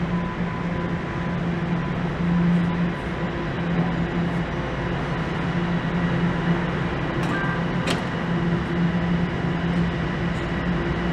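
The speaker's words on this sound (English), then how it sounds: "That sounds like the train I wanted." Steady low rumble and hum of a train leaving a station near Geary Avenue and Dupont Street in Toronto, continuous and fairly loud, with a brief high squeal partway through.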